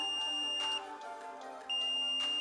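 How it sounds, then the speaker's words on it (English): A steady multimeter continuity beep sounds while testing a relay on a Mitsubishi Lancer Evolution VI, breaks off briefly, then returns, over a faint background hum. "listen for the beep"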